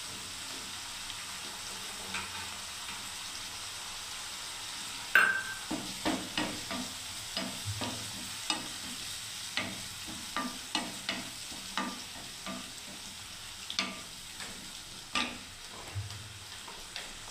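Tomato paste with curry leaves and chopped green chillies frying in a pan: a soft, quiet sizzle broken by a regular run of stirring scrapes and taps.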